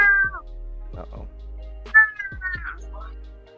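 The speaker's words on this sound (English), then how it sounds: "what are you doing with your cat over there?" A house cat meows several times at close range in an indoor room, with drawn-out, wavering cries spread across a few seconds over a steady low hum.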